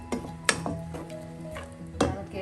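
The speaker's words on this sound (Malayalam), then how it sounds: "എല്ലാം കൂടെ ഒന്ന് മിക്സ് ചെയ്യാം." A spoon stirs a green mango and ground coconut paste mixture for a prawn curry, making faint scrapes and a few sharper clinks against the pot at an uneven pace.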